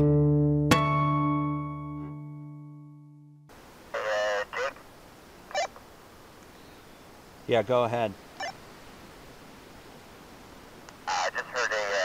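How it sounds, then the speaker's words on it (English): Several short bursts of an elegant trogon calling in the Huachuca Mountains of Arizona, spaced out and at moderate distance, after a brief opening voice and a tonal tone; hoarse croaking phrases rising above a steady outdoor hiss. "I just heard a trogon down here."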